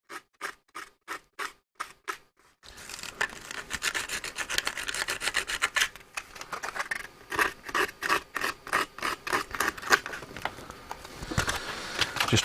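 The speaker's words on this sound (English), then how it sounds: "Let's just give that a run over with a sandpaper." Sandpaper is rubbed over an electrical connection on a radio project build, starting with a few evenly spaced scratchy strokes after a short pause, then a quicker run of rasping back-and-forth strokes, close and moderately quiet.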